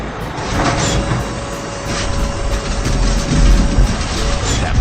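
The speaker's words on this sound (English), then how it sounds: "This is a haul truck." A haul truck engine runs with a steady, loud broadband rumble and a constant whine, with repeated faint clicking ticks overhead, close and continuous with no talk.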